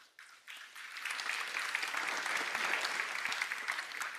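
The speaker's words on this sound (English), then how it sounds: "Somehow that applause even feels better" A conference audience at a Kotlin developer event breaks into sustained, dense applause that builds in the first second and holds steady and full, with no talk over it.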